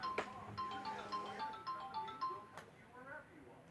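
A phone ringtone plays in short repeating melodic bursts, moderately loud and close, with someone talking over parts of it.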